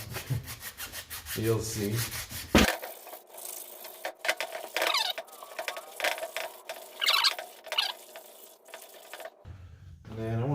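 Hand filing and rubbing on a wheel bearing housing from an MK4 Volkswagen hub, repeated scraping strokes up close with brief clanks, a short spoken comment near the end.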